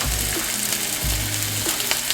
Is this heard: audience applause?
no